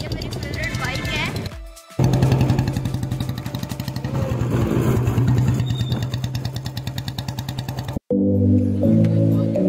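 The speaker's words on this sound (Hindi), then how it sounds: "हम आउटलेट जा रहे हैं ऊपर रॉयल एनफील्ड पे" A Royal Enfield motorcycle rides along with a steady engine rumble, close and loud, while people talk over it; the sound cuts out briefly near the end.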